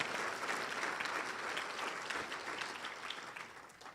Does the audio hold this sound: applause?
yes